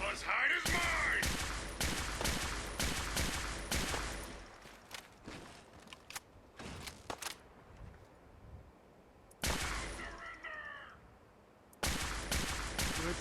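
Gunfire in Fallout 4, a rapid run of sharp close shots in quick bursts with brief pauses between volleys, while someone talks over the action.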